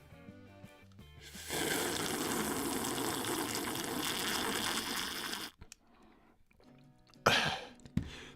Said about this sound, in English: It's an elegant sip of water, son.